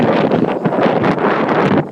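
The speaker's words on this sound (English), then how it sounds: "You can hear the winds gusting." Strong wind gusts roar during a 2013 snow blizzard in Worcester, a loud, continuous rushing buffet close to the microphone with no talking.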